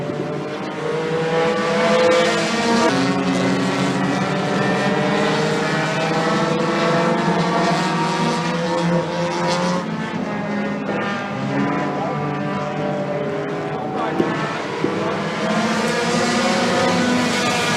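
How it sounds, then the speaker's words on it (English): WISSOTA race cars roar through the opening lap of a race, several engines blending into a loud, steady, continuous drone with shifting pitch as they pass close by. "Danny Halterman going to battle with Levi Price here with the opening lap"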